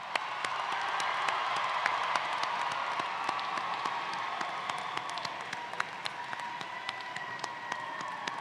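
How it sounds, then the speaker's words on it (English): A large crowd at a high school graduation ceremony applauds and cheers in a sustained, even wash of clapping. It sounds moderately distant and fills a big space. "Let's give them all a big round of applause."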